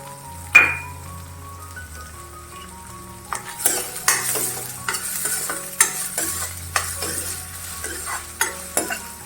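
Finely chopped onion frying over a low-medium gas flame for a cabbage Manchurian, with a metal spoon clinking and scraping in repeated strokes against the pan over a soft sizzle, close by and without speech.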